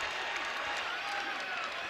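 A home basketball crowd at VCU's Siegel Center roars and applauds after a blocked shot against Radford, a dense, sustained wash of cheering and clapping that may carry a commentator's voice.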